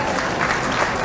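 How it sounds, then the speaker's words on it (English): A pool hall audience applauding a fine shot at a professional match, a brief burst of dense clapping at close, steady loudness. "That deserves an applause right there, people."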